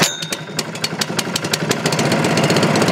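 A Dennis mower engine at a golf club cold-starts on choke with a quick run of sputtering pulses, then settles into a steady, loud, close-up running drone.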